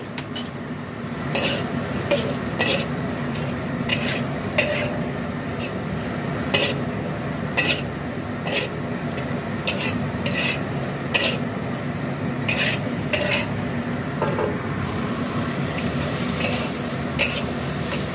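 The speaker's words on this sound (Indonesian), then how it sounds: "kita masak kita tumis-tumis selama dengan lebih kurang 3 menit" Bitter melon and chicken liver stir-fried in butter in a pan, with a steady sizzle under repeated scraping and clinking of a utensil against the pan at an uneven rhythm.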